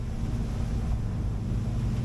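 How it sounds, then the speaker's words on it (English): Marex 360 motorboat rolling in choppy waves hitting it on the beam, a steady low rumble of engine and water with wind buffeting the microphone throughout, no talking. "Got the waves on my beam here, so it's rolling around a bit."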